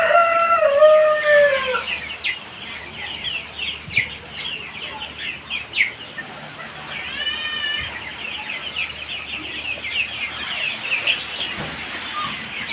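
Hungry local (deshi) chicks huddled together on a farm, giving repeated high, thin peeping chirps in short bursts, fairly close and steady throughout, with no talking.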